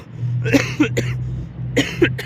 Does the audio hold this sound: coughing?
yes